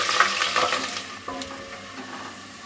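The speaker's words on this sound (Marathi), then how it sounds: "आता यामध्ये आपण हिरवी मिरची घालूया ही सुद्धा थोडी परतून घ्यायची आहे" Green chillies frying in garam masala in a pan, a sizzling hiss with stirring scrapes that is loudest at first and fades to a quieter bubbling.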